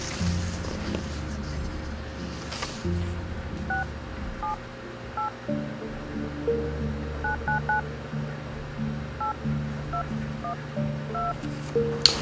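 Telephone keypad tones dialing a phone number: a quick series of short, clear beeps in irregular groups over a low background hum, with no voices.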